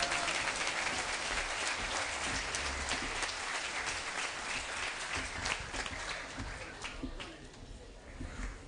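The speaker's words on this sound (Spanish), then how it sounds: "quiero que a continuación recibamos con un aplauso bien fuerte" An audience at a tribute event for a Conservative Party leader in Huila, Colombia, breaks into loud, sustained applause with dense clapping that slowly tapers off toward the end.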